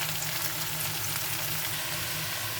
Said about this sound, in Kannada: ಇದನ್ನು ಒಂದು 5 ನಿಮಿಷ ಲೋ ಫ್ಲೇಮ್ ಅಥವಾ ಮೀಡಿಯಮ್ ಫ್ಲೇಮಲ್ಲಿ ಇಟ್ಕೊಂಡು ಫ್ರೈ ಮಾಡ್ಕೊಳ್ಳಿ